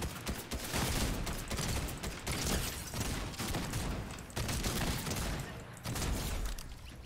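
Rapid bursts of gunfire from a shooter video game crackle in dense, loud volleys separated by brief pauses, close and harsh across the whole stretch.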